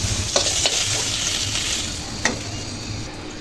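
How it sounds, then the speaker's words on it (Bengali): Carp pieces fry in hot oil, giving a loud, steady crackling sizzle close up with a few sharper pops and stirring clicks, and no voices. "তো মাছগুলো এভাবে ভেজে নিচ্ছি"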